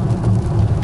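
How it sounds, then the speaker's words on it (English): Rain falling in Portland, Oregon, a dense, steady hiss and patter that is fairly loud and unbroken, with no voices over it. "It's raining."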